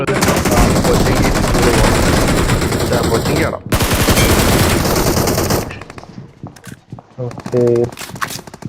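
Loud, close automatic gunfire from a video game roars in dense sustained bursts, breaks off briefly, surges again, then thins into scattered single shots and faint scraping.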